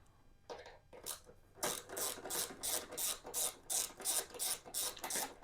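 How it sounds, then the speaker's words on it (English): A 5mm hex bolt being turned out of the side cover of a Lifan KPM 200 motorcycle, with a quick run of close, evenly spaced ratcheting clicks after a few softer scrapes. "let's go ahead and take this side cover off. There's only 3 bolts that hold it on."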